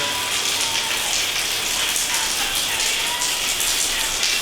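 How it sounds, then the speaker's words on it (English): Steady rain hisses evenly throughout, a dense continuous patter with no breaks and no voices. "It's raining."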